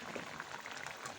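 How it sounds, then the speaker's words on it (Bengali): Bata and pabda fish sizzle and bubble softly in a pan with tomato during a brief moment of frying, faint and continuous, with no talk. "2টা মাছ আমি একসাথে ভুনা করতেছি।"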